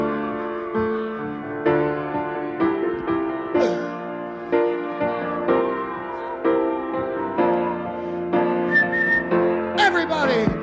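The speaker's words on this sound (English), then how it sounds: "Whistling is one of the worst things in the world." Sustained tonal whistling from a crowd of people, several long held notes in overlapping waves with brief breaks, rising in pitch near the end.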